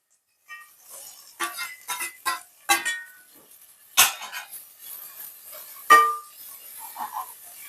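Tomatoes dropped into a frying pan of eggplant and peas, giving a string of sharp clinks and clatters of metal and utensil against the pan, one louder knock near the middle and another toward the end, with no talking.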